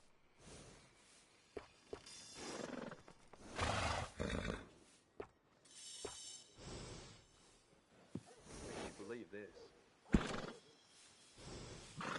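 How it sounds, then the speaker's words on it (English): Horses in Red Dead Redemption 2 neigh and whinny in several loud bursts, mixed with hoof clip-clops and snorts, close and clear between quieter gaps. "These horses can run faster than anything else,"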